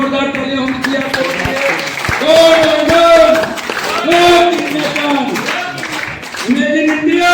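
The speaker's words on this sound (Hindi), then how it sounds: "जोरदार तालियां होनी चाहिए आपको" A loud audience at a direct selling training event claps in a dense, sustained wash of applause, with cheering and a speaker's amplified voice talking over it.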